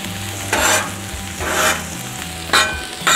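Smash burgers fry on a Cuisinart 360 griddle with a steady sizzle, broken by three louder bursts of scraping and stirring about a second apart, all close by and with no voices.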